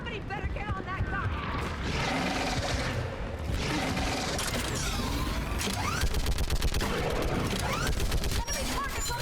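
A mounted gun fires in Mass Effect 3: dense bursts of gunfire, growing into rapid, loud automatic fire near the end, amid battle noise and shouted voices.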